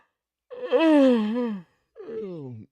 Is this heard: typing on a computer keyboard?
no